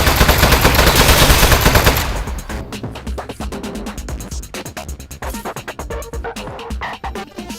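Gunfire in the video game Aperture Desk Job aimed at a switch: a loud dense burst of rapid shots, then a long run of quicker, lighter crackling shots.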